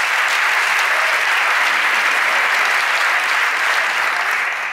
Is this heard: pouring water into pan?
no